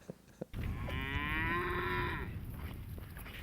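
A single long, loud cow moo, a drawn-out low bellow lasting about two seconds after a couple of faint clicks, close and clear over quiet outdoor background.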